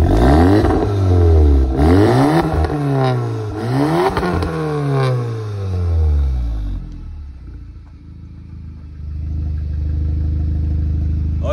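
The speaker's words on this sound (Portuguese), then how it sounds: "vou mostrar o barulho de escapamento dele pra vocês" A 2019 Volkswagen Golf GTI Mk7.5 with 300 hp and its intermediate muffler removed is revved hard several times, its loud exhaust rising and falling in rapid sweeps, then settles into a rough, rumbling idle.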